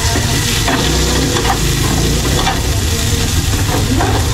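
Garlic and onion sautéing in hot oil in a pan for a silog breakfast dish, a loud, dense, continuous sizzle and crackle with steady stirring throughout, no voices.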